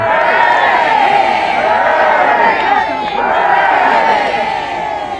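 A large crowd at Westminster cheers and shouts continuously for the King, loud and close, the roar swelling in waves with scattered whoops and no pause.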